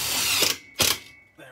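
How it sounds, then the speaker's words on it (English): A power drill drives retainer screws while a new microwave is installed in a tour bus, giving two short, close whirring bursts with a brief tail at the end. "And then I just got to put these retainer screws in."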